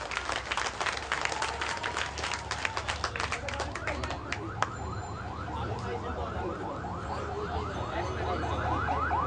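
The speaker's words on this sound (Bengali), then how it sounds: "আমরা সকলেই সবার জন্য জোরে এক করতালি" Crowd applause at the ribbon-cutting opening of a hospital and diagnostic center, brisk clapping for about four seconds before giving way to a warbling siren-like electronic tone that rises and repeats steadily to the end.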